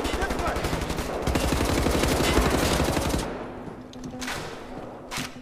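Gunfire in Wolfenstein: The New Order, with loud, dense, rapid shots rolling for about three seconds, then a few scattered, sharper blasts against quieter game ambience.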